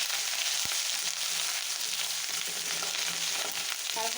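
Garlic and ginger paste fries in hot oil, a loud, dense, continuous sizzle with a brief utensil tap near the start.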